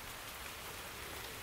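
Steady rain falling in a jungle, a dense, even hiss of drops on leaves with no pauses, soft and constant throughout.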